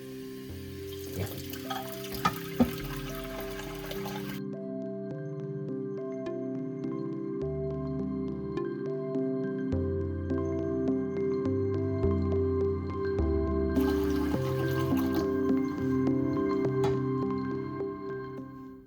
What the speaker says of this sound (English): Let me fill this with water.